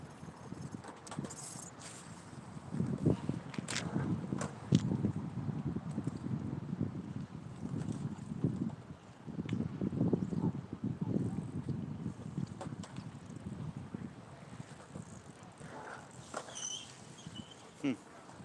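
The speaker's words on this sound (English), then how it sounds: "Still getting windy right now too." Gusty wind buffets the microphone out on the water while fishing at El Estero, coming in rough, uneven rumbling waves with short lulls between them.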